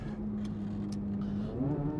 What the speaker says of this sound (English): flat plane crank V8 is utterly, utterly intoxicating in this car. Just the exhaust sound.